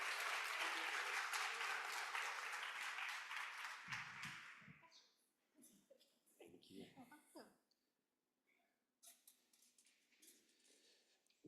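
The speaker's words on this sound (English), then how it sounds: "Another round of applause for Alaska." Audience applause at a state leadership meeting, a dense burst of clapping for about four seconds that fades out, followed by scattered handling noises and faint murmuring.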